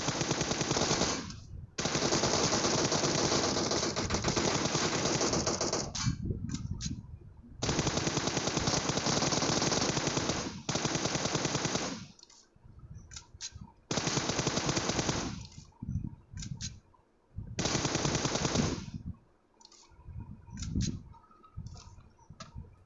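Automatic gunfire in the mobile battle game PUBG Mobile rattles out in long, loud, close bursts, each lasting a few seconds and separated by short pauses, with a few quicker stuttering volleys near the end.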